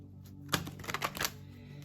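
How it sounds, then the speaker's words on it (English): A deck of Animal Medicine oracle cards is shuffled, giving a quick cluster of crisp riffling snaps and flicks over about a second, close and fairly quiet over faint background hum. "Well, we'll just do one more shuffle."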